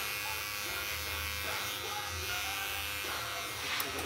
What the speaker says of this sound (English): I'd rather just tape this out with the clipper.